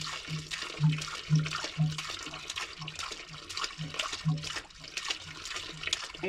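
Water splashes and gurgles in irregular bursts during cleaning, likely from a drain or plumbing fitting being flushed, with a rhythmic low pulsing beneath close, fairly steady liquid noise.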